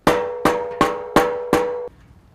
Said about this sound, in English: take a rubber mallet and just lightly tap around the outside